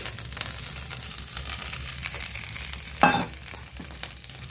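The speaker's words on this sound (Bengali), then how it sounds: "আদা বাটাটাকে তেলের মধ্যে ভালোভাবে নেড়ে নেব। এরপর টমেটোটা দিয়ে দিলাম।" Ginger paste and tomato frying in oil in a pan, a steady soft sizzle with a brief louder burst of spattering as the tomato goes in, then settling back to a low crackle.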